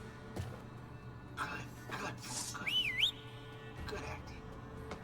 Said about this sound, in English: she whistles for it like a dog